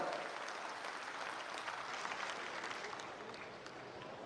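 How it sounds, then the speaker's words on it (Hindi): Dense, even clapping from an audience at a Samrat Ashok Jayanti speech gathering in Patna, faint and distant, continuing steadily without a break. "एक बार जोरदार ताली।"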